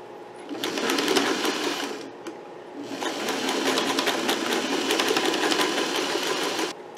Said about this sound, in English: I already had black thread in my machine, so that worked out well for me.